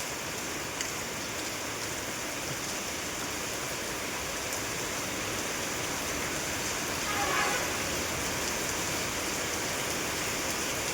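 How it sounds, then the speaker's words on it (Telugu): Heavy rain falls over Baripada village in Odisha as a continuous, even wash of hiss that holds at a moderate level throughout, with only a slight swell partway through. "వర్షం పడుతూనే ఉంది."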